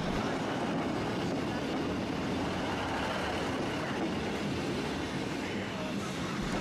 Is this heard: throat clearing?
no